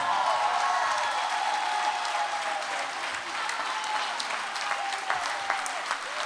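Sustained applause from a crowd at the closing ceremony of a charity relay in Marche, a broad continuous roar of clapping with occasional sharper claps and faint cheering throughout.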